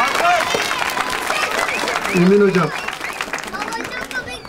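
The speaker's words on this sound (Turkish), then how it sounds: "Alkış. Alkış." Audience applause at a children's theatre show: steady clapping and crowd chatter throughout, close and fairly loud, with voices speaking over it.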